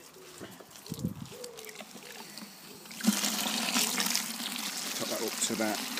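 A garden hose runs off water into a bucket of steriliser for home brewing, a quiet splashing rush that starts halfway through after some soft talk.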